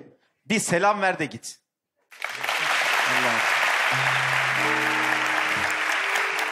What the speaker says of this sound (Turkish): sen gelirken seyirci alkışlıyor